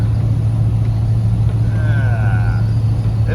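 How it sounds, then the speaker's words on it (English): Restored 1978 Dodge W200 crew cab 4x4 truck on a test drive, with a steady low engine and road rumble filling the cab throughout and a brief faint whine in the middle; a voice speaks quietly over it. "What a beautiful day for a test drive."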